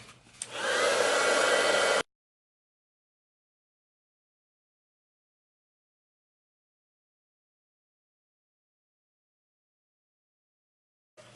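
A heat tool blows hot air to melt embossing powder on a card base, making a loud, steady whoosh for about two seconds before it cuts off to silence.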